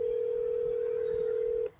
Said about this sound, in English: Let me go ahead and call her back real quick.